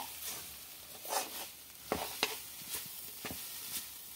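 Food fries in a pan in a home kitchen, a faint soft sizzle broken by several light scraping stirs and taps, quiet and close with no talking.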